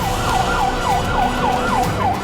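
An ambulance siren wails in a rhythmic rising-and-falling cycle while stuck in a traffic jam in Guwahati, loud and close over a steady road-noise background, with no talk.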